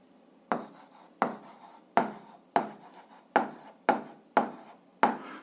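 Someone writes by hand during an algebra exercise, in eight evenly spaced scratchy strokes, each a sharp onset fading quickly, close and fairly quiet with no talking.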